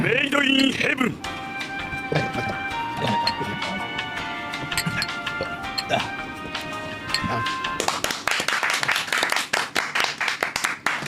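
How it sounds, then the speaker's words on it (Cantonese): Clapping and cheering at a bachelor party drinking game, with rapid hand claps and a lively crowd that grow denser and louder toward the end, mixed with voices and background music. "比叔呢個位咪贏盡掌聲啦"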